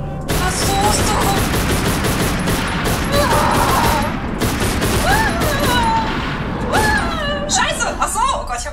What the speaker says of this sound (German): Ich hab einfach geschossen.